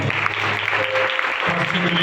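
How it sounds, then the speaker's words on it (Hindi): Audience applause at a public gathering in Sargodha, a brief burst of crowd clapping mixed with voices and background hum. "मैं चाहूँगा इनके लिए जोरदार ताली बजाएंगे।"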